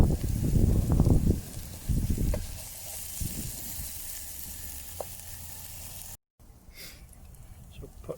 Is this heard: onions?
yes